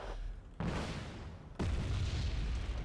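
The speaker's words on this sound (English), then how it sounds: "J7 dropping in the bombs." Bombs dropped by J7 jets in the war strategy game Wargame Red Dragon, two heavy booming explosions with rumbling tails, the second louder and closer.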